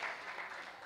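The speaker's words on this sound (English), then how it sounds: "Round of applause." Audience applause at a Dallas New Tech meetup, a brief steady wash of clapping from a crowd filling the room, loud and continuous without pause.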